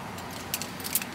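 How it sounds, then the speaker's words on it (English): Keys jingle faintly in a quiet outdoor spot as someone searches for a house key, a few light metallic clinks coming in short bursts. "About to find my key"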